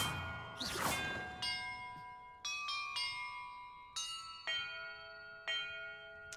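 Bells rung one after another in a bell-order puzzle in the video game Hogwarts Legacy, after a short whoosh: about eight clear metallic strikes, each ringing out and decaying, with no talk.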